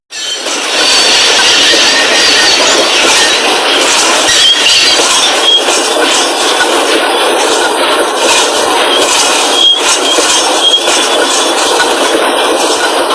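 Locomotive rolling through a rail yard in a train simulator game, a loud continuous rumble of rolling wagons with faint wheel squeal and clatter throughout.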